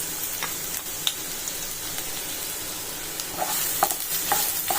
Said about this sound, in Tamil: அதே கடாயில் ரெண்டு டீஸ்பூன் அளவுக்கு எண்ணெய் விட்டுக்கிறலாம் நம்ம பொடியை நறுக்கி வச்சுருக்க வெங்காயத்தை அதில் போட்டுக்கலாம்